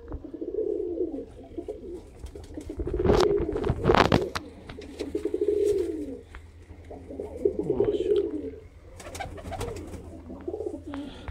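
Pigeons coo in repeated low, throaty rolls, close and fairly loud, broken by a burst of wing flapping or handling noise and occasional light clicks, with faint talk in the background.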